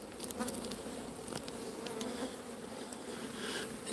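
Honey bees buzz around an open hive in a steady, close drone with a few louder passes as individual insects fly near, and no voices.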